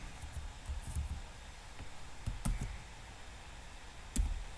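Light typing on a computer keyboard while entering an Excel formula, a few soft scattered key clicks at low level over quiet room noise.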